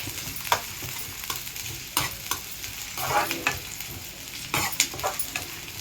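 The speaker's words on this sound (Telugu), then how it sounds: "ఎల్లుల్లిపాయలు ఫ్రై అయిపోయినాయండి." Garlic frying in a pan, a steady sizzle broken by several sharp scraping stirs of a spoon against the pan, close and fairly loud; no talking.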